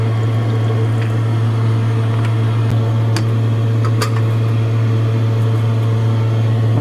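A stirrer hums steadily and loudly while mixing aqua regia made with muriatic acid, a constant motor drone with faint clinks now and then.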